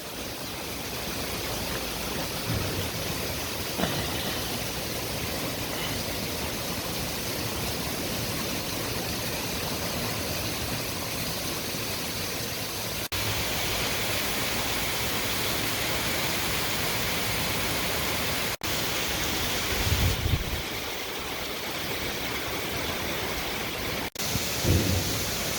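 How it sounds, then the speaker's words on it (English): Heavy rain pours down steadily at night with wind, a dense constant hiss broken by a few sharp distant cracks and a low rumble near the end. "Even when it's pouring down rain at damn near 9 o'clock at night."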